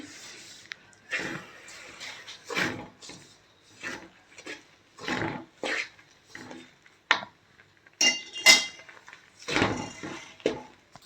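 Ragi laddu mixture is stirred in a pan, with rhythmic scraping and rubbing strokes of a spoon against metal, close and fairly quiet, separated by short pauses and with no talk.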